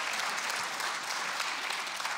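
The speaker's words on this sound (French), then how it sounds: "Qui n'aurait pas de téléphone intelligent?" A comedy festival gala audience claps steadily and densely, a continuous wash of applause from a large crowd, fairly distant and even throughout.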